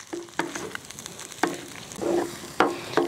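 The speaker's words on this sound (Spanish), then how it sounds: "Aquí le voy a ir poniendo los huevos." Eggs fry in a pan with chorizo, crackling and sizzling under repeated stirring scrapes that come in short bursts, close and moderately loud.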